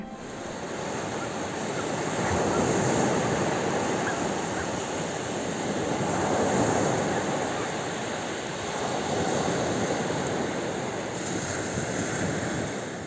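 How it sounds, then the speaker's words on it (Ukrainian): Steady Baltic Sea surf rolls and swells in broad washes of noise, with wind buffeting the microphone throughout and no voices. "Послухайте й ви, як шумить Балтійське море."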